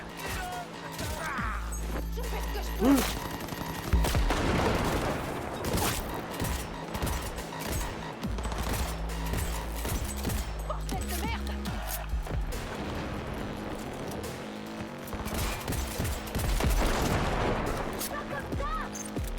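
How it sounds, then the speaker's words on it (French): Rapid bursts of gunfire and explosions rattle through a dense, noisy Cyberpunk 2077: Phantom Liberty game soundscape, sustained throughout with crashing impacts. "J'ai entendu des coups de feu."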